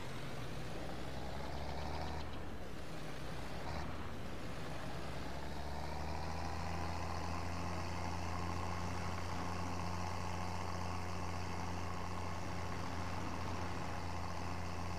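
Tractor engine idling in Farming Simulator 22, a steady low diesel drone with constant harmonic hum holding throughout, loud and alone with no talk.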